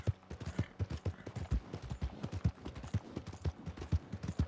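Steady rhythmic hoofbeats of a fast horse galloping in the video game Red Dead Redemption 2, quick repeating clip-clop thuds at moderate, even volume with no talking.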